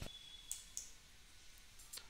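A computer mouse clicks a few times, faint and close, with sharp isolated clicks spaced across a quiet room.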